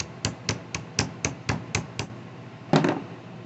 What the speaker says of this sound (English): I like to take a ratchet, tap it a few times